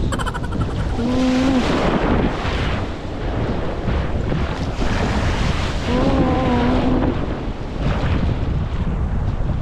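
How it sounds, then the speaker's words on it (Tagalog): Rough sea waves wash and roll steadily around a small fishing boat, a loud continuous surge with wind buffeting the microphone, and two brief whistling tones rising over the noise. "may alon"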